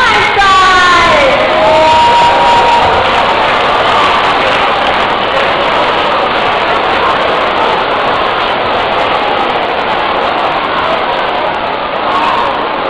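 A school audience at a stand-up comedy show cheers and shouts loudly and continuously, a dense wall of crowd noise with a few rising whoops at the start.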